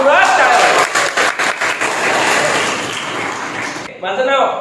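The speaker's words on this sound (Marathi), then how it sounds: "तुम्ही स्वतःसाठी पण एक वेळा जोरदार मनमुराद टाळ्या वाजवा" Energetic applause from an audience at an Ayurved college event, with a dense mass of claps and crowd noise that fades somewhat before a brief voice cuts in at the end.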